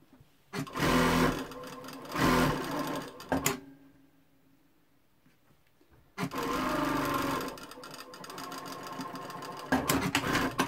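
Sewing machine stitching a cotton poplin blouse, fast rattling bursts of stitching broken by a pause of a few seconds before a longer steady run, close and fairly loud.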